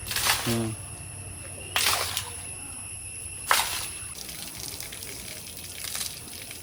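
Rushing water gushes and splashes on a rainy mountain pass, rising in three separate loud surges over a constant background flow, with brief voices nearby.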